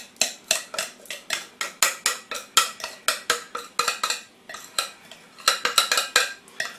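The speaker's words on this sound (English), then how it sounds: "So take a spoon and scoop it all in." A spoon scrapes and taps repeatedly against a dish while cake batter for a normal-size birthday cake is scooped from a bowl into a mold, giving a steady run of close, sharp clinks with no voices.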